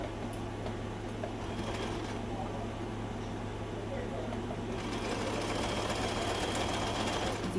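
A Singer Simple sewing machine runs a straight stitch at length 3 with back tacking, a steady rapid mechanical whirr that holds constant throughout, with a faint background hum.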